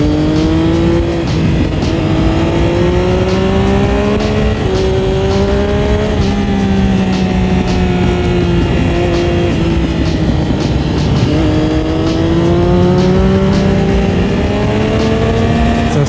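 A Triumph Daytona 675 Triple sport motorcycle being ridden, its engine droning loud and steady throughout with slowly rising and falling pitch as the revs change, heard close up with no talk.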